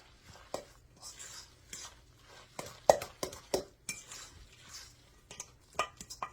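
Spoon scrapes and clinks against a bowl while cabbage patty mixture is stirred, a series of irregular close taps and knocks over soft background noise, with faint speech in places.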